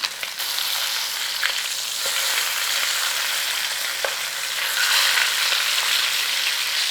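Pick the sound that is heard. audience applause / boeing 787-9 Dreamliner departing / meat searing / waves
meat searing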